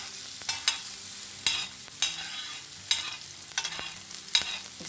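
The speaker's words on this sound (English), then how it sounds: "Lagay ko na ang onions to cook." Onions cook in oil with a soft background sizzle, broken by regular stirring strokes that scrape and clack against the pan about once or twice a second, no voices.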